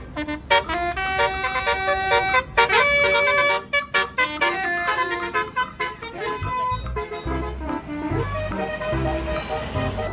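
A green Basuri telolet bus horn plays bright, melodic toots in quick repeated bursts, loud and close, with lower rumbling sounds later.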